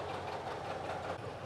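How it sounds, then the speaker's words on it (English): Old farm tractors, some 50 to 60 years old, rev their engines during a harvest festival parade, a loud, steady mechanical rumble close by with no talk over it. "I think some of these old farmers are having a go, revving them up, Angle, just so we can't hear each other."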